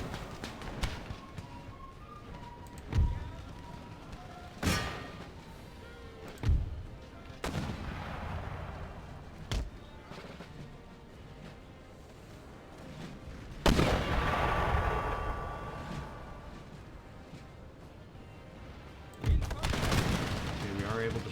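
Mortar and musket fire in the Empire: Total War strategy game, with heavy booming blasts at irregular intervals, crackling volleys and a long rolling barrage partway through, all set against constant battle noise.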